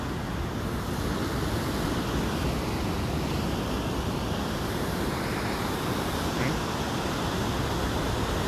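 Tidal sea waves at eroded Jilbab beach give a steady, loud, broadband roar of surf mixed with wind buffeting the microphone, with no voices.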